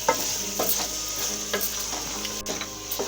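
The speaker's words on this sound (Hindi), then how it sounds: "अब मैं इसमें ऐड कर रही हूँ पिसा हुआ गरम मसाला और इसको अच्छी तरीके से मिक्स करती हूँ" Ground garam masala is stirred into frying beetroot mutton, a steady pan sizzle broken by repeated scraping strokes of a spoon at a fairly regular pace, close and fairly loud, with no talk.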